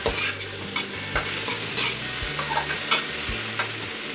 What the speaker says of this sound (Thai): ผัดให้ผักพร้อมเลยนะครับ